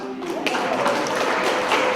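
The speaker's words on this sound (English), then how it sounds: "I want you to give yourselves a round of applause" A small audience at a community workshop on conserving water in gardens and landscaping gives a brief round of applause, a dense patter of claps with a voice faintly underneath.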